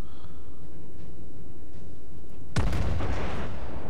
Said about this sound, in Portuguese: Atirei com a terceira torre no room.